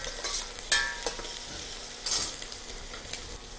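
Garlic and onion sauté in a pan, cooked only until translucent, not browned; a steady low sizzle runs throughout with a few brief sharp stirring scrapes and clinks near the start and middle.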